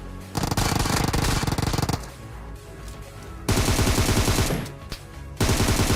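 Heavy automatic gunfire from PUBG Mobile, likely an M249, erupts in loud sustained bursts, pauses briefly around two seconds with lighter shots, then resumes in dense rapid volleys close by.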